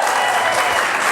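An audience at a city council meeting claps loudly and continuously, a dense wash of applause with a few cheers mixed in.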